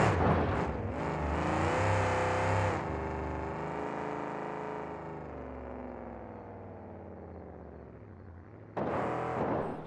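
Monster truck at an indoor arena show in Detroit, 2009: a loud engine roar surges at the start and builds, then slowly winds down before another sharp burst of revving near the end.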